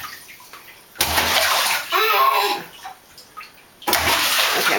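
A small child splashes in a bathtub, with bursts of sloshing and slapping water close by, broken by short quieter gaps and a final splash.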